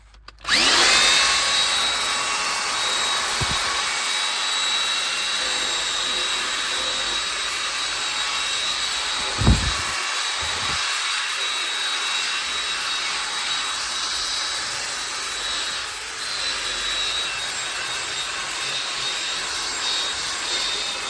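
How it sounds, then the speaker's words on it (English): A steady, loud motorized whir of a power drill with a fine brush scrubbing fabric runs throughout, with a brief bump near the middle and no voices. "this is a fine drill brush. See, it doesn't hurt the fabric"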